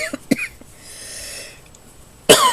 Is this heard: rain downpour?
no